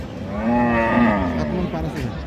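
A bull at a cattle market in Raniganj moos loudly and close by, one long drawn-out low call with rising and falling pitch that fills the whole moment.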